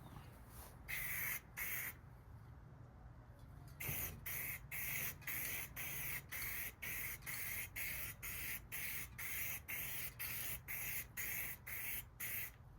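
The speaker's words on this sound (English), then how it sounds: "let's spray the second coat" An aerosol spray can lays a second coat of paint on Kawasaki KE175 motorcycle parts, a close hiss in about twenty short rhythmic bursts with brief gaps and one longer pause near the start.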